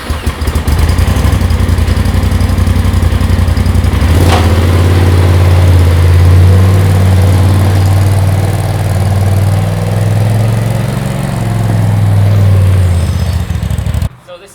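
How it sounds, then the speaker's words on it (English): A 2017 Polaris RZR XP Turbo side-by-side on its stock exhaust fires up and idles loudly and close, a deep steady rumble with small swells in revs before cutting off at the end. "So this is the stock exhaust on a 2017 Polaris RZR XP Turbo."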